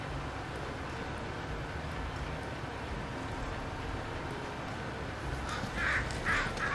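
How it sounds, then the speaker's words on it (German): Crows caw repeatedly around a field in Thüringen, a few harsh calls rising near the end over a steady broadband rumble of wind or machinery. "die dusseligen Krähen machen so einen Krach"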